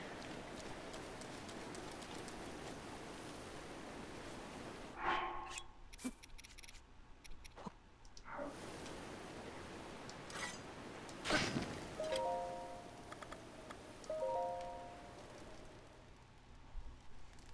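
Steady rain falls at night in Zelda: Breath of the Wild, a constant soft hiss broken by a few brief chimes and clinks from the game.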